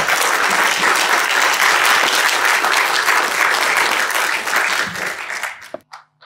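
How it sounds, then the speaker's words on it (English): Conference audience applauding at an internship program opening ceremony, a loud, sustained round of clapping that thins out and stops near the end. "Please give a huge round of applause as Martin comes on stage."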